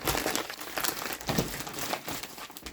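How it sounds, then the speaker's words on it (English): Plastic packaging crinkles and rustles up close in busy, irregular bursts as a quilting kit is packed back into its box, with no speech. "sorry for all the crinkling"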